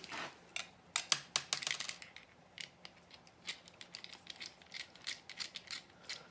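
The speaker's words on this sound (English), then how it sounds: "Get in and take these 3 screws out." Screws come out of a VCR being scrapped for parts. A screwdriver makes quiet ratcheting clicks and small metallic ticks in short irregular bursts, close up and faint, with no talking.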